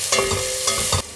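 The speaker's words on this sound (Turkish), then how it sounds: "Kızan yağın içine 1 adet yemeklik doğradığım soğanı, 2 adet doğradığım sarımsağı, 1 adet ince ince doğradığım sivri biberi ekleyip kavuruyorum." Chopped onion, garlic and a thin green pepper sauté in hot oil in a pot for chickpea soup, with a steady close sizzle and two short scraping stirs, with no talk.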